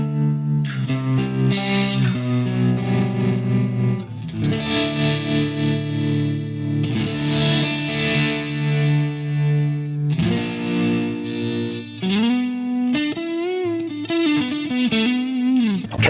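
Electric guitar played through the modulation effect of an M-Vave Tank G pedal, sustained distorted chords and notes swirling with a wobbling chorus-like shimmer, loud and continuous with brief pauses between phrases.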